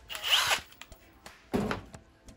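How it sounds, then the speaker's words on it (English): A power drill bores air holes in a cardboard shipping box for reptiles, giving two close, loud bursts of whirring with short clicks between them. "And then we got a drill for air holes."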